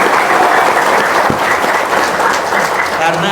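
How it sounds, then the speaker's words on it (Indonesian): An audience at a gathering claps loudly and continuously, a dense wash of applause with voices underneath. "Yang kencang tepuk tangannya."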